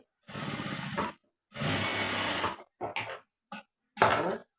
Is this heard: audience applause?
no